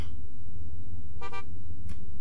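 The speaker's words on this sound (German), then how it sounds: "Eine Hupe." In the video game Parasite Eve 2, a car horn honks twice in short bursts, the first a little longer than the second, over a steady low background hum.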